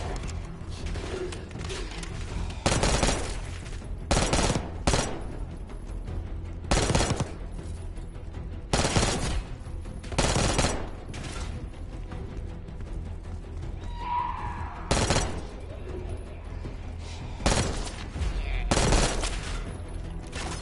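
Bursts of automatic gunfire in the video game Call of Duty Black Ops 6, loud repeated volleys every couple of seconds over a mechanical game background.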